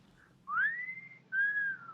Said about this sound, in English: seriously, a wolf whistle?